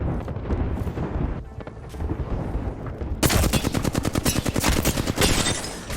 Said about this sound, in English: So between the three of us squads, we're all shooting at each other, getting a few hits here and there